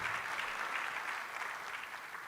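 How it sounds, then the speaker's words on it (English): Sustained applause from an audience at a college of physicians and surgeons leadership symposium, steady and dense for the whole span, with no voices over it. "let's have a round of applause for the faculty of the college"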